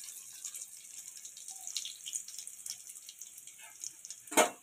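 Egg devil chops deep frying in oil over a low to medium flame, giving a steady soft hiss and crackle with a brief louder sizzle burst near the end.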